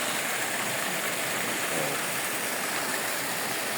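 Steady broadband rush of stream water flowing at Kabuayahan Falls, a continuous close wash with no breaks and no voices.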